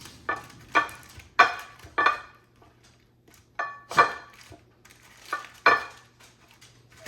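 Homemade butter being shaped into a block with wooden butter paddles: a series of sharp slapping pats in irregular pairs, close and fairly loud, with short quiet gaps between them.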